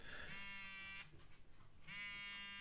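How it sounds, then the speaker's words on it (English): A wearable device's timer vibrates with a harsh electric buzz in two bursts, one at the start and another near the end, with a brief quiet gap between them. It sounds close and steady. "You can probably hear the buzz"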